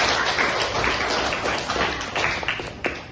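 A classroom of students claps for a group of classmates who have just presented, a dense, steady patter of many hands close by that runs on without a break.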